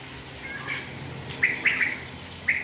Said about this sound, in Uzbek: Bedana sayrab tursa nima deysizlar?